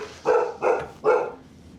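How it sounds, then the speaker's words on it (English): Dogs bark close by, three loud, evenly spaced barks in quick succession, heard during home cooking in a kitchen. "There they are, guys, the dogs."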